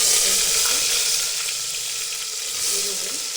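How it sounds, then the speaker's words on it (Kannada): Hot oil sizzles steadily with a crackling, spluttering hiss of mustard and cumin seeds that stays loud throughout. "ಸಾಸಿವೆ ಚೆನ್ನಾಗಿ ಸಿಡಿದ ಮೇಲೆ"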